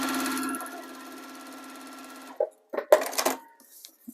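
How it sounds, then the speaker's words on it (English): A sewing machine stitches paper-pieced fabric in a steady close whir that stops after about two seconds, followed by a few clicks and handling knocks. "I'm going to stitch out a little ways past the end of that section on a tight stitch"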